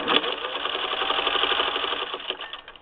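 A Singer 15-91 sewing machine fitted with an antique automatic zigzagger stitching at speed, a close, even, rapid mechanical chatter that runs steadily and then slows as it stops.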